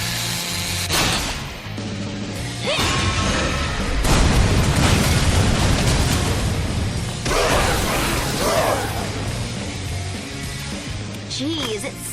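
Several heavy booms and bursts erupt one after another with dense crackling debris in between, loud and close, while a person talks over the commotion.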